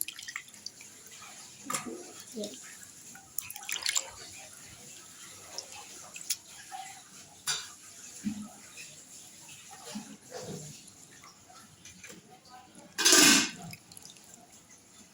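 Small kachki fish are rinsed and rubbed by hand in water, giving scattered soft splashes and drips with quiet gaps, then one louder splash near the end.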